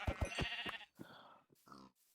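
Pigs in a Minecraft hardcore world give a few short, low grunts close by, one after another, with quiet gaps between them.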